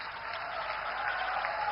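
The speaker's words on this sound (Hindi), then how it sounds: "तालियां जोरदार हो।" An audience at a railway service launch event in Jharkhand claps steadily, a dense and even patter of many hands heard at a moderate distance without speech.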